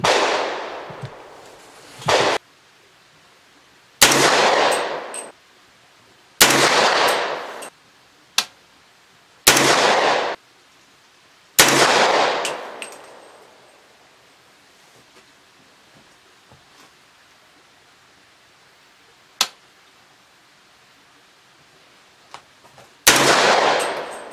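Loud rifle gunshots from a Doublestar ARC 300 firing Hornady Black 208 grain ammunition at an outdoor range: seven sharp reports spaced irregularly a few seconds apart, each with a short ringing decay, plus a fainter click between shots.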